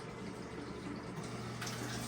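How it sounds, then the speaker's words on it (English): Water hissing and trickling inside a leaking Maytag washing machine during a fill cycle, a steady, soft rushing flow heard up close without speech. "Nothing is coming, and I can hear water leakage here."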